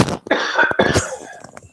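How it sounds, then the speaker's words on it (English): Close coughing in a series of sharp bursts filling nearly two seconds, loud against a quiet room during a forex market broadcast. "Sorry, I had to cough again."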